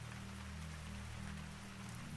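Rain falls in a soft, steady patter, a faint continuous wash of drops over a low hum, with no voices.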